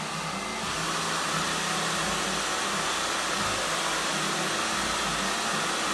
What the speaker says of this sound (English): We just need to use a blow dryer.